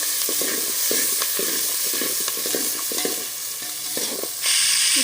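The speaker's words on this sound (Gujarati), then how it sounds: "ત્યારબાદ આપણે એને સારી રીતે હલાવી લેશું।" Chili and ginger paste with green onion stirred in a hot pan for rotli vadhariya, a close sizzle cut by rhythmic spatula scrapes about twice a second, loud and uninterrupted by talk.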